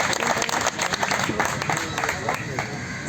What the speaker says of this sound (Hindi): एक बार जोरदार तालियां तो भाई